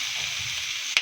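Shrimp hitting a pan of sautéing onion, garlic and ginger, a steady close sizzle with a brief louder burst near the end as they go in.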